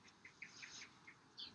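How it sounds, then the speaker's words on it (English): Birdsong sound effect triggered as a cue in QLab show-control software: a handful of short, fairly quiet chirps and tweets scattered across a soft background hiss. "it's the sound of the birds."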